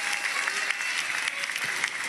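Crowd applause for the Caixa Econômica Federal staff at a Minha Casa, Minha Vida housing handover in Maceió, a dense and steady clapping that fills the whole stretch.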